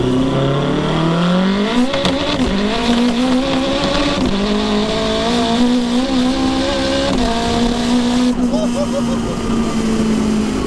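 A 922 hp all-wheel-drive Honda Integra DC5 engine revs hard and steadily, its pitch rising and then stuttering as traction control cuts power in and out; voices talk over it.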